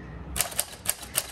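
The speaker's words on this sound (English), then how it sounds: "as soon as you hear that bell, you just need to go ahead and hit the return handle" Typing on a 1946 Smith Corona Speedline manual typewriter produces four crisp, separate key strikes at an uneven pace, close and clear over quiet room noise.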